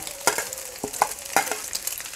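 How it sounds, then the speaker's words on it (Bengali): Noodles with egg stir-fried in a pan at home, Chinese-style, sounding as a series of sharp scraping stir strokes over a steady low sizzle, close and moderately loud with no talking. "এখন এই ডিমটার সাথে সুন্দর করিয়া মাখামাখি করে নিম"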